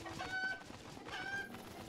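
Chicken clucking in the video game Breath of the Wild: two short bird calls, separated by a pause, over a steady busy game background, with no talk.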